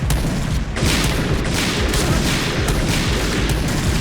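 Dense, loud gunfire rattles through a PUBG match, sniper rifle shots mixed into a continuous barrage of booming reports with no voice over it.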